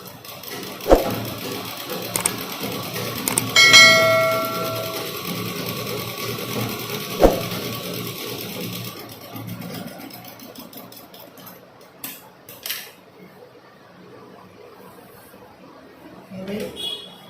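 Sewing machine stitching a churidar band in a tailoring lesson, short bursts of mechanical whirring in the first half, then quieter handling while someone talks over it throughout.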